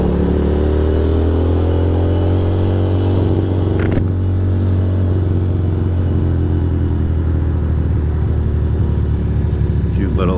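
A Ducati Monster 620 motorcycle being ridden, its engine a steady loud low drone with faint shifts in pitch, wind and road noise mixed in and a voice talking over it.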